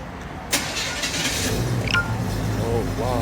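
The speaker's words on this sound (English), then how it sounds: "It's about to do its cold start." Cold start of a classic American muscle car: a sudden loud engine crank and catch, then a steady rumbling idle, with a brief clink and people talking nearby.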